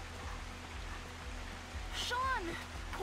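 Rain pours down in nighttime woods in Life Is Strange 2, a constant hiss of drops on foliage that holds steady throughout, with a brief rising whistle-like sound near the end.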